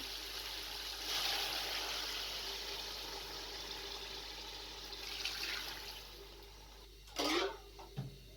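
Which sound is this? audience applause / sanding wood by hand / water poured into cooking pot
water poured into cooking pot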